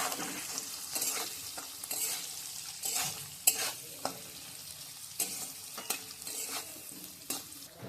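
Green chillies, capsicum and onions stir-fried in a pan for chilli chicken, a steady oil sizzle broken by repeated scraping stir strokes at an uneven rhythm, close and moderately loud with no talking.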